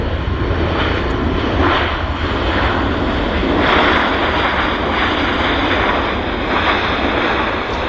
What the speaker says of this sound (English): Lots of thrust reverse.